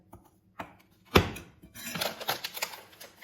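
A whisk or utensil works pancake batter in a bowl, made with sugar and starch: a few isolated knocks, then a run of quick clattering strokes against the bowl, close and fairly quiet.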